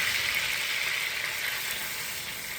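Tomato paste sizzles in hot ghee for a Bengali cauliflower roast, a steady, fairly soft crackling hiss that runs evenly throughout with no talking.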